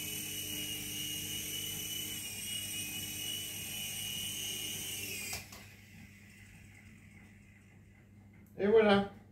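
A T2M Spark SX RC helicopter whirs with a steady high-pitched rotor and motor whine that cuts off abruptly partway through as it lands, followed by a brief louder burst near the end, with talk underneath.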